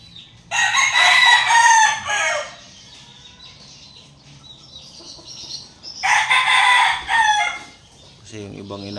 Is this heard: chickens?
yes